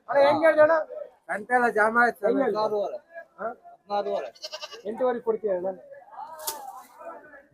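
Sheep bleat repeatedly amid a busy, crowded weekly sheep market in Chitradurga, India, mixed in with people talking close by.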